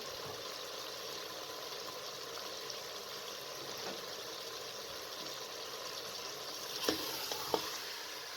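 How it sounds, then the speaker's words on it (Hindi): Potatoes and turnips fry in a spiced masala, giving a steady, fairly quiet sizzle throughout, with a couple of sharp utensil taps near the end. "दोनों चीज़ें डालकर 4 से 5 मिनट तक मज़ीद भून लें।"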